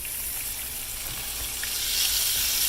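Swiss steak browning in a hot brazier, giving a steady, close hiss of sizzling fat and juices that swells slightly louder toward the end, with no talking.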